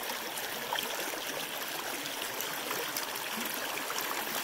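Mountain creek water flowing on a cold morning where ice balls form at the surface, a steady close rushing trickle with no voices.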